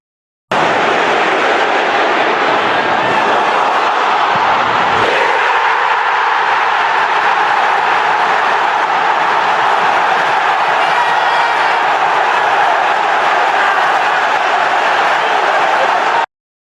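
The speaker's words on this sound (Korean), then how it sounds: "환호 소리부터 한번 들어보시죠." A large crowd cheering makes a dense, loud, continuous roar of many voices that holds steady for about sixteen seconds with no pauses.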